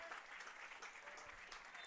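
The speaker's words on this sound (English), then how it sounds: "Seahawks get a rousing hand here from their home crowd." Home crowd at a men's college soccer match between Salve Regina and Curry applauds steadily after the final whistle, distant and continuous clapping with faint voices mixed in.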